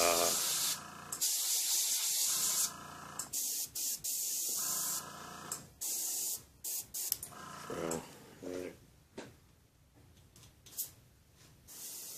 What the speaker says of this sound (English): I'll just lay it up on there, and I'll just spray on it, let the overspray